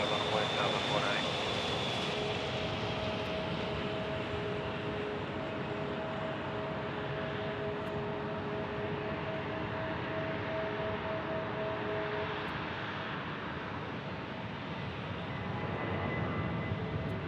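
A Southwest jet airliner takes off from runway 25 right at Phoenix Sky Harbor Airport, its engine roar steady and broad throughout, heard from a distance under a radio voice.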